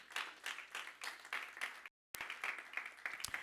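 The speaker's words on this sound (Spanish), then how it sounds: "Dale palmas al Señor." A church congregation claps together during a sermon, a dense steady run of rhythmic applause with a brief silent gap before the clapping resumes.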